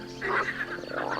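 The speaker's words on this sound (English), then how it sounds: "A frog." A frog gives a short, raspy croak, up close and alone, lasting about a second.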